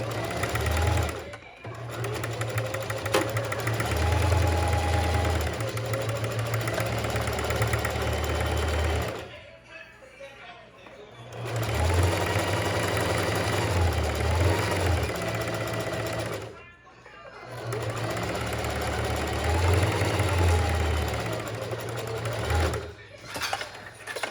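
A sewing machine top stitches fabric for a flutter pinafore in three long whirring runs separated by short pauses, close and steady, with someone talking over the stitching.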